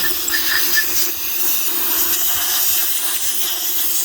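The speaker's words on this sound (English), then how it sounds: "I'll blow it from this side. See a little dirt coming out of that?" Steady broadband rush of compressed air blowing dirt out of a Dyson DC50 vacuum part, a continuous close hiss lasting throughout with no talk.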